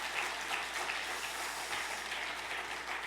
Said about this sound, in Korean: 우리 박수 한번 보내겠습니다